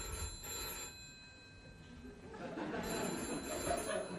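A telephone rings indoors with steady, repeated electronic bell tones at moderate volume over a low room background, and no one speaks.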